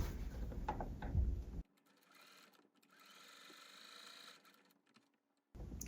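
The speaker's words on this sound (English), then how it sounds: "I am going to sew a 1/4 inch away from this center line" A sewing machine stitching a quilt half-square triangle runs in quick close bursts, with a whirring hum and rapid needle clatter and short pauses between runs.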